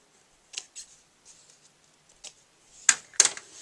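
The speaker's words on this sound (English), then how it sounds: "go ahead and cut off the ends" Scissors snip off the ends of paper for a handmade card: a few light, quiet snips early, then two sharper, louder cuts close together near the end, with short gaps of near silence between.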